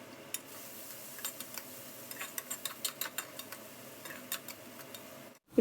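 Crushed garlic cloves and okra frying in a pan for an okra tomato curry, a soft steady sizzle under quick scraping stirs and light utensil clicks, close and fairly quiet, with no talking.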